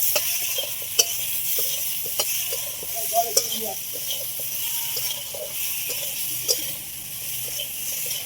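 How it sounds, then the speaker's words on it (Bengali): Mango chutney with turmeric being stirred in a pan: a soft, steady sizzling hiss broken by scattered light scrapes and taps of the spoon against the pan. "দিয়ে একটু নাড়াচাড়া করে নেবো।"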